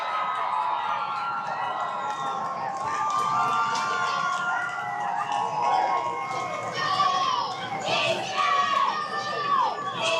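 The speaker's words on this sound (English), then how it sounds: "Big crowd here, Ty, for this game." A packed ballpark at a 7th-8th grade game, Eastbank against Lafayette, with a water park and T-ball nearby: a steady crowd roar fills the air, with children shouting and playing throughout and occasional cheers rising over it.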